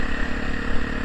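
Honda Tornado motorcycle fitted with a Protork exhaust, whose exhaust does not seal properly, gives a steady close engine rumble with rough clattery texture and small surges in level throughout the brief moment, no voices.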